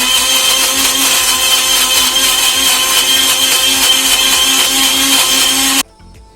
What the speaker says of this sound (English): just blend them all up